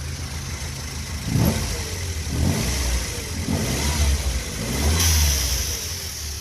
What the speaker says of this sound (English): What a great little exhaust noise. Not loud,